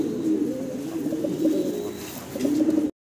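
Black Magpie Danish fancy pigeons coo steadily at close range, a low, throaty, rolling murmur that pulses on and off for about three seconds before a brief cut near the end.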